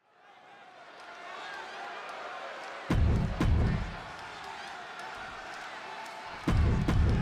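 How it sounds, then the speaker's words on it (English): Wrestling arena crowd in the WWE 2K26 video game, a Chicago audience for CM Punk against Eddie Guerrero, a swelling roar of cheering that builds from quiet, with sharp loud bursts like impacts or stomps near the middle and end. "just listen to this crowd here in Chicago"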